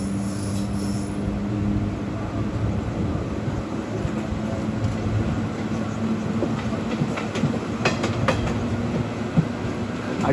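A train runs on the rails at Chandragiri station, with a steady rolling rumble and clatter that holds close and loud the whole time, faint metallic squeals showing up near the end, and no talk.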